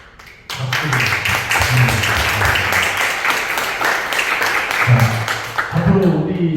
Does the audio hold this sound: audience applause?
yes